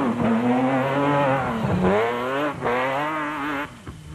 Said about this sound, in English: This car is wild as compared to what we had before with a rear mount engine.